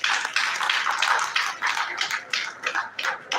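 An audience at a conference award introduction claps in a series of bright, uneven bursts of applause that rise and fade, fairly close and steady throughout.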